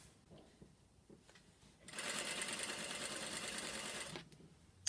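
A sewing machine stitches along fabric-covered welt cord, its steady whirring burst running for about two seconds after quieter handling noises, then stopping.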